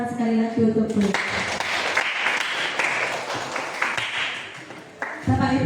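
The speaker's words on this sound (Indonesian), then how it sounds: "Mari kita berikan tepuk tangan sekali lagi untuk beliau." An audience applauds a speaker at a positive-culture dissemination event held at an Indonesian primary school, a steady wash of clapping lasting several seconds, framed by brief speech at the start and end.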